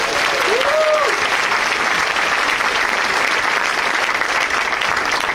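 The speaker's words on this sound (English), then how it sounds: "Give him a round of applause." Audience applause at a political gathering, dense and steady clapping from a large crowd throughout, with a brief whoop near the start and voices faintly mixed in.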